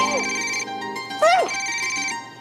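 A mobile phone rings unanswered indoors, its loud, close melodic ringtone repeating sliding electronic tones continuously throughout.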